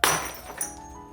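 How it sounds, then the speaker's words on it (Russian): A small glass vase falls from a sideboard and shatters in a children's story: one sharp crash with ringing glass that fades over about a second. "стоявшая там маленькая вазочка упала и разбилась"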